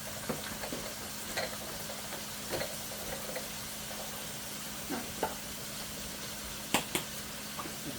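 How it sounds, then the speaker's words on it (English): Ground beef and mushrooms frying softly in a pan for spaghetti sauce, a low sizzle broken by occasional utensil knocks and scrapes, no talking. "putting the mushrooms right in the meat as we cook it here"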